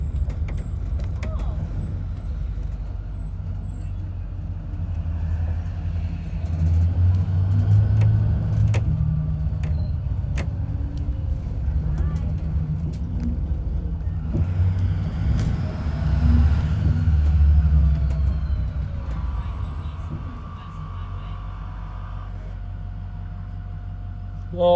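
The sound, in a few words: cars passing by on the road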